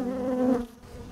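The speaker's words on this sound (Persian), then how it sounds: "خب اکبر آقا، دیشب ما این زنبورا رو تکثیر گرفتیم آوردیم اینجا" Honeybees from freshly split colonies buzz around beehives at an apiary, a close, steady droning hum that swells briefly and then eases.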